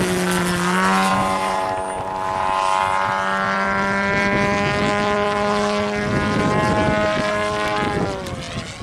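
A small glow-fuel engine on an RC model airplane screams at high revs, a steady loud whine with strong harmonics that wavers slightly in pitch, close and continuous throughout.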